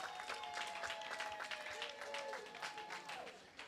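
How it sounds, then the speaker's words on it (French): Wedding guests applaud loudly, a dense crowd of clapping that continues steadily throughout, heard at a moderate distance in a reverberant hall, with voices and a high tone running faintly underneath. "applaudissons très très fort."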